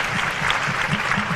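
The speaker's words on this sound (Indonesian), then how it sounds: "Beri tepuk tangan semua yang pegang" Lively applause from a student audience at a Q&A session with Jakarta student council leaders, brisk close clapping with a slightly uneven rhythm, loud and unbroken for the whole moment.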